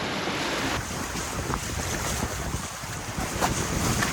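Wind rushing past the microphone while sailing on the open Indian Ocean, with waves and water washing against the boat's hull; a steady, loud, continuous roar with occasional gusts and no talk.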